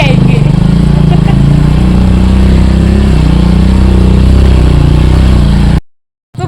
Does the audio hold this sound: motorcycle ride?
yes